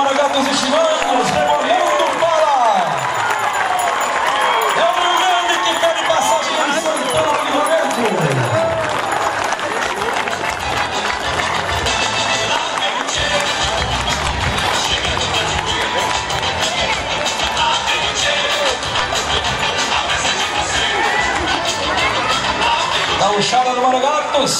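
Crowd applause at a gaucho parade for Farroupilha culture day, continuous dense clapping and cheering throughout, with an announcer speaking loudly over it.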